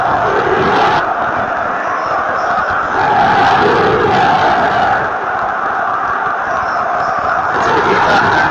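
Crowd in a football video game roaring at a possible comeback, a loud, continuous stadium din with swelling chants and cheers, steady throughout with little break.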